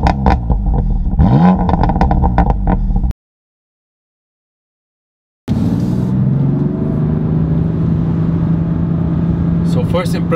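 BMW M4 Competition exhaust revving, a loud rumbling engine surge with clatter, cut by a sudden stretch of silence before the engine roars back with a steady droning tone.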